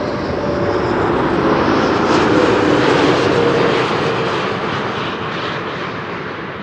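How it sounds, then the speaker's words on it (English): A Royal Air Force Embraer Phenom T1 jet, registration ZM334, makes a breakaway landing at Amsterdam Schiphol, sweeping past close and loud with a rising then fading engine roar and whine over several seconds. "This is a Royal Air Force Embraer Phenom T1."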